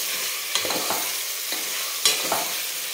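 Khasgi-style mutton sautéing without water in a pan over a full gas flame, a steady broadband sizzle broken by a few sharp scrapes and clatters of stirring.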